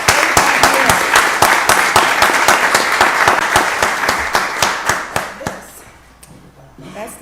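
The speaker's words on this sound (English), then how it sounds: "Give him a round of applause." Audience at a county board of commissioners meeting claps for an investigator, a loud, rhythmic run of applause that gradually thins and fades before a voice comes in near the end.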